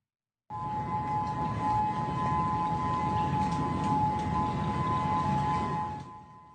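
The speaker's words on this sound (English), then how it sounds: "Sirens blaring there in Honolulu" A sustained wailing civil defense tsunami siren tone hangs steadily over a dull background roar in Honolulu, starting abruptly and tapering off near the end.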